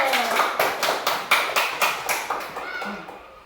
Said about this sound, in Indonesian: Ya, tepuk tangan untuk kelompok jujur.